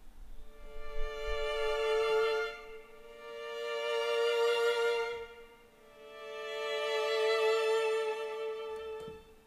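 Small violin section from the 8Dio Adagio library playing sustained legato notes with dynamic bowings, swelling and fading in three long phrases, rich and close with no talking.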